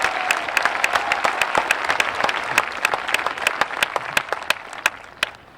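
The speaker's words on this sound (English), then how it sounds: "Please give them all a round of applause" A graduation ceremony audience bursts into applause with dense, continuous clapping and a few sharp, distinct claps standing out. The clapping thins slightly toward the end.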